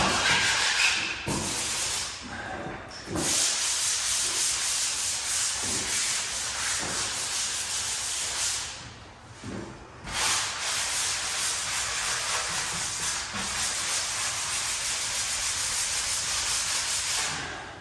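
A sanding bar and a 6-inch scraper working over drywall joint compound in a garage, making a close, loud, continuous abrasive rasp in long rhythmic strokes with brief pauses, no talking.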